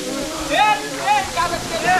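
The Sohosrodhara waterfall roars with a broad, steady rush of falling water close by, while a person talks excitedly over it.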